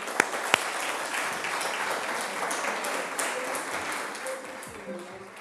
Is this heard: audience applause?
yes